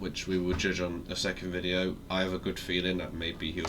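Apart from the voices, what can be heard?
No everyday noises stand out.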